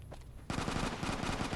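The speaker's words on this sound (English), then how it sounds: "And I still don't know where the gunshot's coming from." Gunfire from the video game Fallout: New Vegas erupts suddenly partway through as a rapid, sustained burst of shots, loud and rattling after a quieter opening.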